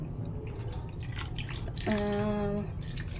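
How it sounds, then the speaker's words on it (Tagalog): Water is poured into a cooking pan with a little oil in a home kitchen in the province, a soft trickle and splash close by, rising briefly to a ringing gurgle before easing off. "maglagay rin tayo ng tubig."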